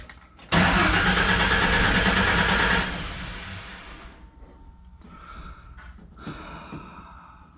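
A Mustang's starter whirs and the engine catches with a loud burst, then roars close and steady for a couple of seconds before settling into a quieter, rough idle with a few small blips, and no one speaking.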